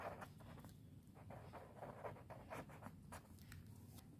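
A pen writing on paper: quiet, close scratching strokes in short irregular bursts over a faint background hum, with no voices.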